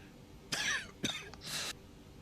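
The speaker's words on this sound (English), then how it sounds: "Sorry for coughing in your ears" Several short, harsh coughs come close to the microphone in quick succession, followed by a rougher throat-clearing burst, with quiet background in between.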